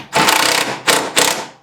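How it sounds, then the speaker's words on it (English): Metallic ratcheting from a wrench tightening transmission motor mount bolts, three quick close bursts of clicking, the first longest. "now we're just hitting this on this end to tighten up the transmission motor mount"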